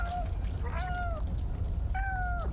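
A cat meows in the video game Night in the Woods, whose protagonist is an anthropomorphic cat. Two clear, rising-then-falling voiced meows sound close and alone over a faint background hum.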